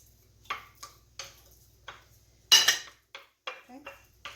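A utensil stirring shrimp and garlic in a metal pot, heard as a series of distinct clinks and scrapes in an uneven rhythm, close and fairly quiet against a near-silent background.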